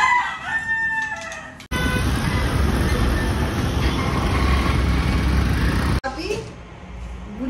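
Chickens cluck and a rooster crows at a rural home, a dense, loud stretch of fowl noise under steady outdoor ambience, with some talk and passing traffic at the edges.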